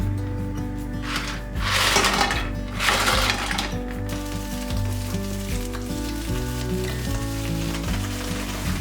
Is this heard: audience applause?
no